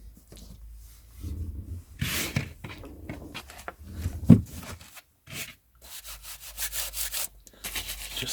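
Rubbing strokes cleaning the cover of a vintage Penguin paperback, close and soft, with bursts of scrubbing friction separated by short pauses and small handling noises.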